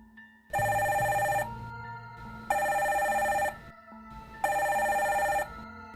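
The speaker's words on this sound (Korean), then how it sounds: "네, 바로 인터폰 벨소리였죠." An electronic intercom bell rings three times in steady, evenly spaced bursts, each a bright buzzing tone about a second long, separated by short pauses.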